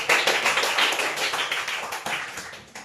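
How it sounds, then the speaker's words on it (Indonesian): A classroom of primary school pupils gives a student an enthusiastic round of applause, many hands clapping loudly and steadily for about three seconds, with no talk over it. "kasih aplaus yang paling meriah untuk Ralin ya"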